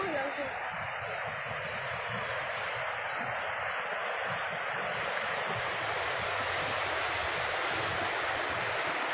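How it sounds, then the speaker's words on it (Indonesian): River cutting through Tangerang city, a broad steady rush of flowing water with voices talking faintly over it. "Ini sungai yang membelah kota Tangerang"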